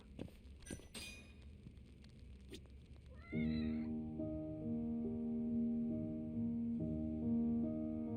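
Several short synthetic cat meows in a video game in the opening seconds, then a steady game-style musical tone with layered harmonics takes over.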